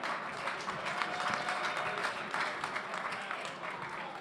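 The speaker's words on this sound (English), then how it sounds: "Clap it up for them." A crowd claps steadily throughout, a dense, moderately loud wash of applause at an event honoring industry figures.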